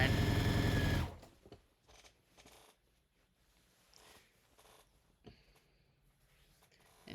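A sewing machine stitching an apron runs in a loud, steady burst for about a second, then stops, leaving a quiet room with faint scattered clicks and handling sounds.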